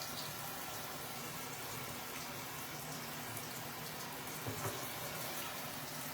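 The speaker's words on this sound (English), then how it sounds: "Again, warm water." Warm water from a tap runs steadily over an Ikonart stencil, a continuous even hiss and splash with no breaks, close and moderately loud, no voices.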